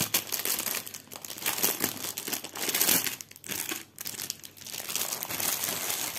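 Crinkly plastic packaging crumpled and torn open while unboxing diamond painting craft supplies, irregular rustling bursts close up with brief pauses and no voices.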